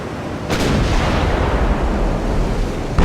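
Warship guns fire in Ultimate Admiral: Dreadnoughts, the USS Monitor's first turrets, with a loud broadband boom opening a long rumbling roar that holds steady before a second sharp blast at the end.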